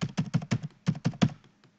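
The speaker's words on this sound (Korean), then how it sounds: "타이핑이 잘 안 되네요." Computer keyboard typing at a desk during a 3D texturing software session: a quick run of about eight close, crisp key taps in uneven bursts, then a final faint tap, no voices.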